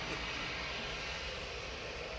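EasyJet Airbus A320 jet lined up on the runway at Manchester Airport, giving a steady, distant engine roar and rumble that holds evenly throughout.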